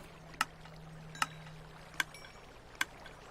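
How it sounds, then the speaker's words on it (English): Boat gliding across water in Minecraft, with four sharp, evenly spaced paddle splashes over a steady low hum. "We'll go ahead and just use a boat."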